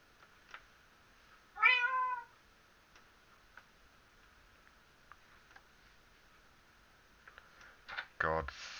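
A cat on an occupied bed lets out a single clear, wavering meow, close and fairly loud, set against quiet ticking and a few clicks, with a louder muffled burst of sound near the end.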